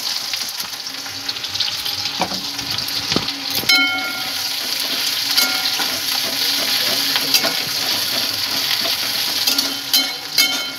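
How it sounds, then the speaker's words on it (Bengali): Onions sizzle and fry steadily in a pan of hot oil tempered with dried red chillies and panch phoron, with close stirring clatters and scrapes throughout and no talk. "পেঁয়াজটা একটু ভাজা ভাজা করে নেবো"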